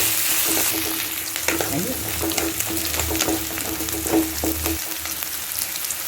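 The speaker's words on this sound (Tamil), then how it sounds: "இந்த வெங்காயம், பச்சை மிளகா, பூண்டு இதெல்லாம் நல்லா வதக்கிட்டு அதுக்கப்புறம் தக்காளி போடுறோம்" Onion, green chili and garlic sauté in a hot pan for dal rice, a steady close sizzle with scattered clicks of a spoon stirring, no voices.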